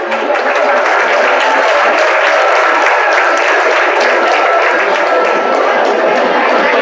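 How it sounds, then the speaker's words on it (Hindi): Loud, dense applause from an audience of students at a career guidance session fills the whole stretch, with many hands clapping continuously near the listener. "इनके लिए ताली बजाइए।"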